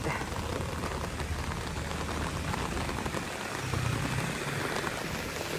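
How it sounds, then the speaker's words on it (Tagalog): Heavy typhoon rain pours down beside the Marikina River during Typhoon Carina, a dense, continuous hiss of falling water with faint low rumbling underneath. "Basang-basa na rin tayo dito dahil kanina pa tayo dito. Hirap kalaban ng ulan."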